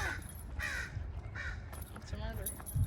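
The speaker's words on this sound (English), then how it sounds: "We have a lot of crows in our neighborhood." Crows caw repeatedly in a suburban neighborhood during a dog walk, several harsh calls from a moderate distance over faint outdoor ambience, with brief pauses between bursts.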